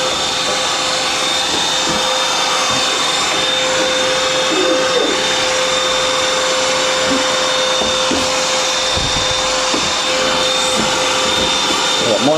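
A vacuum cleaner runs continuously while cleaning inside a Proline TCD6A tumble dryer, a loud steady motor whine with a sharp tonal hum, and occasional scraping and knocking as the nozzle moves around the drum.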